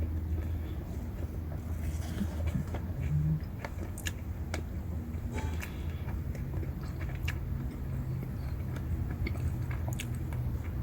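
Someone bites into and chews a Subway sandwich close to the microphone, soft crunches and wet chewing over a constant windy background rumble.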